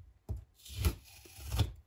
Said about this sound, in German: das Malertape werden wir einmal runternehmen